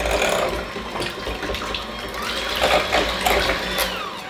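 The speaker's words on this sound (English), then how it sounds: "So we're gonna use our handheld electric mixer," A handheld electric mixer beats almond-flour batter for a paleo strawberry trifle, giving a steady, loud, close whir with scraping rattle against the bowl throughout.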